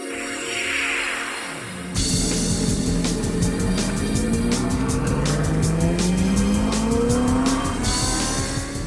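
A Ferrari 458 Challenge race car drives hard on a circuit, its engine loud and close, with pitch climbing through the gears and tires squealing, and no talk.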